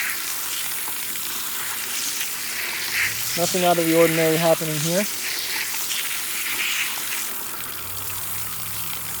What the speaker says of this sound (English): You can see most of this water is going under the debris and through the micromesh.